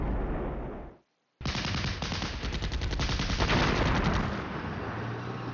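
Rapid bursts of gunfire and machine-gun fire from the wargame Flashpoint Campaigns: Red Storm as Panzer Grenadiers are wiped out, loud and dense, following a brief moment of silence.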